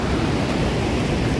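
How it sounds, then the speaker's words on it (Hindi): Broadband rushing roar of the Saraswati river flowing below near the Keshav Prayag confluence at Mana village, a steady continuous wash of mountain water with no gaps. "ये नीचे सरस्वती नदी है और सामने संगम है केशव प्रयाग"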